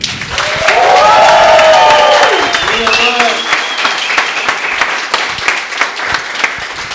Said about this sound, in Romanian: Și gălăgie și aplauze pentru Sabin.